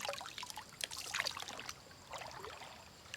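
Cold stream water trickles and splashes softly during snail gathering, with small intermittent drips and splashes over a low, steady flow, fairly close and quiet.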